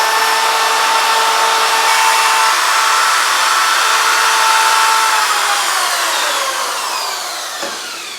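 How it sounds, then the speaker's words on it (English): A wire brush rubs softly over a finished sheet metal rose, a steady, loud, continuous scratchy hiss that carries on evenly for several seconds before easing off near the end. "we're just going to take this wire brush same thing, you don't want to lean into it, you just want to softly rub it"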